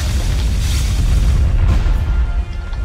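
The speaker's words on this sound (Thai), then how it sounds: "ถ้าเห็นระเบิดนี้อย่าไปใกล้เลยค่ะนะเดี๋ยวตาย" A bomb going off in the video game Demon Are Crazy: a loud, deep booming rumble that fills the whole stretch and eases off slightly near the end.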